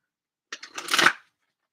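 A short, crisp riffle of Queen of the Moon Oracle cards, lasting under a second and heard close up in a quiet room.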